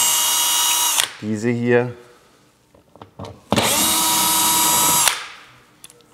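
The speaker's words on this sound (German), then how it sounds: "Ich löse mal 3 Schrauben hier raus" Power drill backing out bolts from the front of a Dacia Duster II skid plate, two long loud whirring bursts separated by a shorter slowing spin, with brief speech in between.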